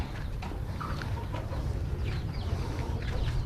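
Chickens on a backyard farm plot beside a lime orchard cluck and murmur at moderate distance, short scattered calls over a constant low outdoor rumble.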